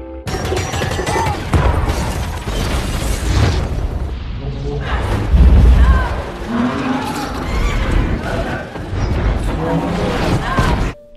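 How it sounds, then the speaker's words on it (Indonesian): Bombs mounted on poles blow up one after another in a film action scene. Heavy booms and crashing bursts come through loud and close over a busy, noisy soundtrack. "pas lagunya habis, satu-satu bom yang ada di tiang itu meledak"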